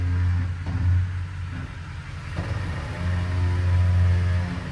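A car engine idles low and steady while reversing out after an oil change, with a deep rumbling drone that swells slightly partway through and stays close and constant throughout.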